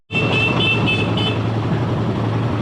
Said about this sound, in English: Traffic jam in the middle of nowhere.